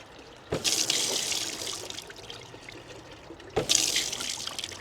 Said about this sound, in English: I'll just wash my carrots. Give it a little wash.